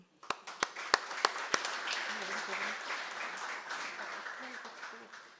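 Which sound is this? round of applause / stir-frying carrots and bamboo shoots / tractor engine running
round of applause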